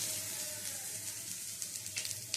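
Crushed garlic frying in a pan, a steady close sizzle that thickens into sharper crackles and spits toward the end, with no talking.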